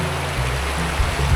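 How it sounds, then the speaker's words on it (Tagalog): A river at a campsite in Tanay, Rizal runs strong, its steady broadband rush of flowing water continuous and close throughout, with a low rumble underneath and no voices. "Medyo malakas yung agos niya ngayon"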